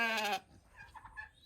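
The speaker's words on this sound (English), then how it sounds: "I don't know what sheep that is" A sheep on a homestead gives one loud, close bleat at the start, followed by quieter farmyard sounds and faint distant animal calls.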